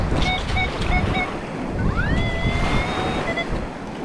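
Ocean waves wash onto a Long Island shore in a steady, loud surf with wind buffeting the microphone, and faint bird calls are heard over the water.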